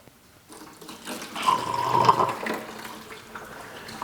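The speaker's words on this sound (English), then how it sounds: "take and run some of this rinse water back here." Rinse water running through a HarvestRight freeze dryer during cleaning, a gurgling, splashing flow that swells for a couple of seconds and then trails off to a quieter trickle.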